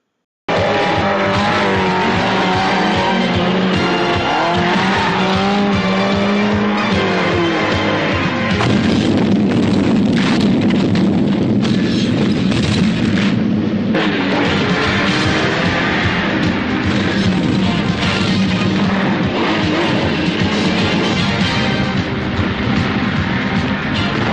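Race cars roar through a staged race and crash in the 1981 film Car Crash, with loud sustained engine noise, squealing tires and booming impacts layered with a dramatic soundtrack throughout.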